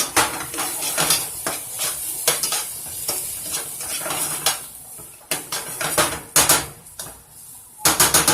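Garlic being stirred in a hot cooking pan, repeated scraping clinks of a utensil against metal over a continuous sizzle, loud and close, with uneven bursts of stirring.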